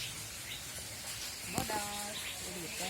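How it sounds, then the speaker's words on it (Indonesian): A Bali myna calls at a bird park, with a short sharp call followed by a few clear whistled notes over background chatter and people speaking. "Jalak bodas."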